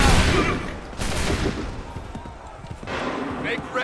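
Musket volley fire in Assassin's Creed 3 Remastered, with two massed bursts of shots that crack out loud and then decay into a ragged rumble, alongside battlefield noise.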